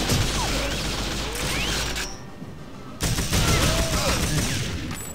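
Rapid assault rifle bursts in the shooter game TimeSplitters: Future Perfect, dense clattering fire with mechanical clacks, broken by a short lull in the middle before the shooting resumes loudly.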